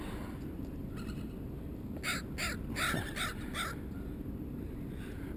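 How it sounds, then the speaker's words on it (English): A crow caws outdoors near bald eagles, a run of five or six harsh, evenly spaced calls at moderate distance over steady background noise. "Brave little crow right there, because them bald eagles will eat them crows."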